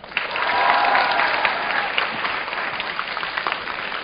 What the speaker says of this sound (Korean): 자, 선생님의 큰 박수 부탁드립니다